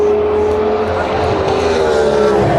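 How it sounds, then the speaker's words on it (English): Race cars at speed, including a Cadillac, an LMP2 prototype and Ferrari 296s, one in Richard Mille livery, roaring past in a steady loud engine wash with a sustained engine tone, no gaps between passes. "As Cadillac goes by, an LMP2, a Richard Mille Ferrari, another Ferrari 296."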